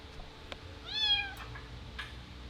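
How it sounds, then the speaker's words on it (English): A cat meows once in a garage shop, a clear rising-and-falling call standing out over low background hum and faint knocks. "can hear the cat in the background."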